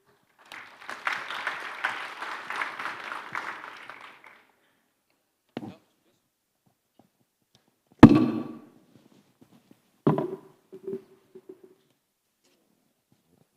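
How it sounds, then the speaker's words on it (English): A short burst of audience applause at a human capital summit, moderate and fading after a few seconds, followed by scattered isolated thumps and knocks against near silence. "Once again, round of applause to the very, again, insightful discussion."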